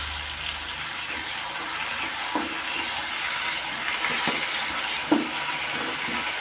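Spices, ginger-garlic, garam masala and curry leaves fry in oil for a Bhimavaram-style Gorakala fish pickle. The oil gives a steady, close sizzle with scattered clicks and stirring taps, and one sharper knock near the end.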